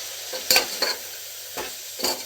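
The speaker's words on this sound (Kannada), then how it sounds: "ಇದನ್ನು ಹಾಕಿ ಚೆನ್ನಾಗಿ ಮಿಕ್ಸ್ ಮಾಡ್ಕೋಬೇಕು." A spoon stirs chili powder into field bean lentils frying in an oil tempering: several irregular scraping strokes against the pan, close and distinct, over a soft continuous sizzle.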